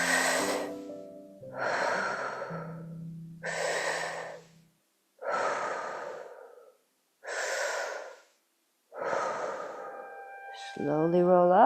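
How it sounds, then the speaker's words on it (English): Slow, deliberate breathing during a yoga class: about six long whooshing breaths, each a few seconds long and separated by short pauses, close and clear, with soft background music tones. "Mouth breathing."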